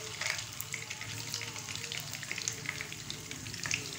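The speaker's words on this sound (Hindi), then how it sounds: "ये 5 मिनट में अच्छी तरह फ्राई हो जाते हैं।" Gola kebabs deep-fry in oil with a dense, steady crackling bubble and scattered small pops, close and even in level throughout, no talking.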